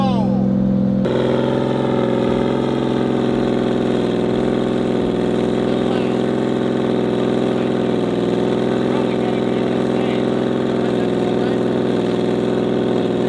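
A Mitsubishi Evo 8's engine fires up from a cold start and then settles into a steady, loud, close idle with a constant hum that carries on without a break.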